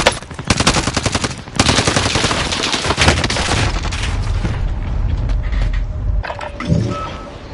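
Rapid automatic gunfire in a video game, long close bursts of rattling shots with mechanical clatter, then a dense rumbling stretch as firing continues, loud and alone without talk.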